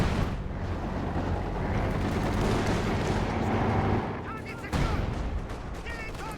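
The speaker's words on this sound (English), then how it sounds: "Lucky hit as well from the mortar pit. It's a barrage from the Cardiff." Mortar pit artillery barrage in the Company of Heroes strategy game: a loud, sustained roar of overlapping blasts and crackling gunfire that dips briefly near the end before another burst, with a bit of game chatter in the background.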